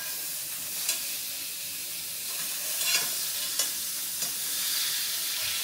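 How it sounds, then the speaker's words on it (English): Meat frying in a pan after being flipped: a steady close sizzle and hiss with a few faint clicks and scrapes from the pan, no talk. "Now we're going to flip this guy over so we can cook the other side of it."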